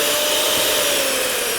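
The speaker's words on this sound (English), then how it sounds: "we're gonna get our mixer, and we're going to mix these eggs until they have firm peaks" Electric hand mixer whipping eggs to firm peaks, a steady close whirring motor hum that runs unbroken throughout with no talking.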